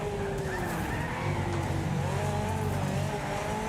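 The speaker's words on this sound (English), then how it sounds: "Oh, you can hear it as well. It's turbocharged." A tiny, high-powered, wide-body turbocharged Mini Cooper roars in the racing game Wreckfest, its engine droning steadily with rising and falling whining tones and tire squeal, loud and continuous without a break.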